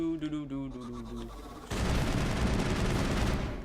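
Gunfire in Mass Effect starts with a short tonal game sound, then breaks into a loud, sustained burst of rapid weapon fire that lasts to the end.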